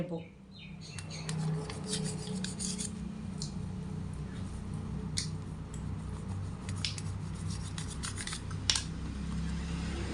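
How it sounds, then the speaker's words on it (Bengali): Soft bread pieces being cut through the middle with a knife for a homemade egg cutlet, giving light crisp crunches and scrapes over a steady low background hum. "এবার এই পাউরুটিগুলোকে একটু মাঝখান দিয়ে একটা ফাল দিয়ে"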